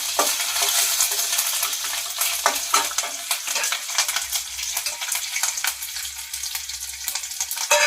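Garlic cloves and tempering spices (mustard seeds, cumin, urad dal, dried red chilies, curry leaves) sizzle in hot oil for a karonda coconut pickle, a loud, steady, dense crackle close by with scraping stirs throughout.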